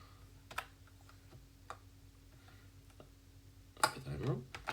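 Password typed on a computer keyboard while signing in to Google Classroom, heard as a few scattered, soft key clicks followed by a brief faster cluster of taps.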